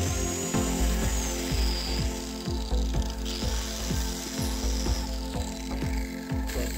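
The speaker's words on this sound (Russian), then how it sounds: "когда оно подплавляет, это лобзик, и застревает вот это полотно" Jigsaw cutting a plexiglass sheet, a loud continuous buzzing motor with rapid rhythmic blade strokes clicking through the plastic, steady and close throughout.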